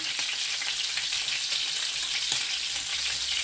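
Seasoned meat, salted and peppered, fries in a pan for a simple Ukrainian Christmas dish, giving a steady, close, dense sizzle with occasional faint crackles and no talking.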